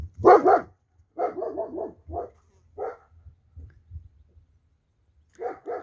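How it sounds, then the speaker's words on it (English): A single dog barks in short bursts: a loud pair, then a quick run of four yips, then scattered single barks and a final double, all close and clear against a quiet background with no talking. "There's a dog barking"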